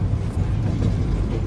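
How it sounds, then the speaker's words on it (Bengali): Steady low rumble of a moving train on a rail journey through rural Bangladesh toward Gafargaon station in rainy weather, continuous and close, with wind-like noise throughout. "আর এভাবেই চলছিল আমার ট্রেন ভ্রমণ"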